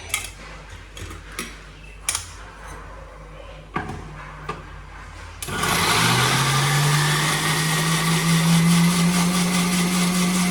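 An electric mixer grinder whirs loud and steady after about five seconds of scattered ticks and knocks, grinding the ground ingredients for pumpkin (kaddu) kofta; its motor pitch climbs slightly as it runs.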